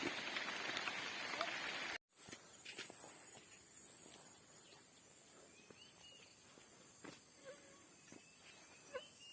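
Heavy rain pours in a rural hill area where fish traps are being set. A dense, close hiss runs for about two seconds, then gives way to quieter scattered drips and taps.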